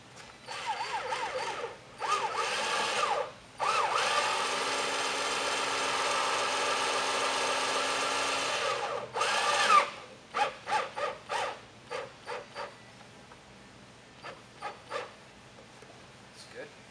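A power drill or driver runs a screw into a custom interior panel in a sustained whir lasting several seconds, preceded and followed by short bursts and quick trigger taps, close and loud.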